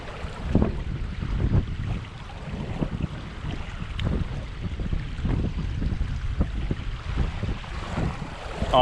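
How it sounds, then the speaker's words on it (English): Strong wind buffets the microphone beside a lake while bass fishing, with heavy low rumbling gusts that rise and fall continuously and no voices. "The wind is real bad over here, so it's a headwind too, blowing right in my face"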